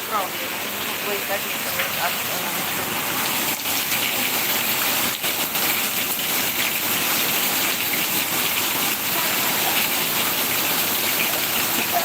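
Heavy monsoon rain in Mumbai pours steadily outside as floodwater fills a house, a dense continuous rushing of water, with voices speaking faintly beneath it.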